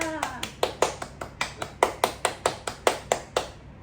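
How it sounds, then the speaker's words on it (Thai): Steady hand claps in an online class, about sixteen sharp slaps in an even rhythm, fairly close, with a brief voice at the very start. "ปรบมือให้เพื่อนค่ะ"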